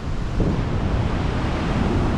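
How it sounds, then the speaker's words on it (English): The waterfall at Quechee, Vermont, heard as a loud, continuous broadband rush of falling water with no break, close to the microphone and with no talking. "And here's a beautiful waterfall."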